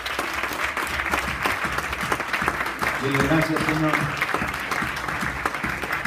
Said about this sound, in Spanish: ¿Quieres darle una ofrenda de palmas al Señor?